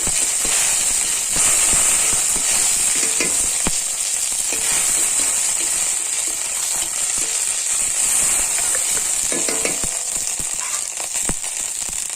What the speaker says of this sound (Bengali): জিরা ফোড়ন দিলাম একটু আদা বাটা দিয়ে দিই